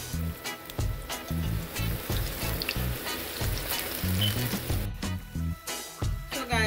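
Plantain fritters fry in hot oil with a steady close sizzle, broken by occasional clinks and bumps of utensils.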